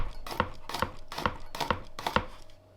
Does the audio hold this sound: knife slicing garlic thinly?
yes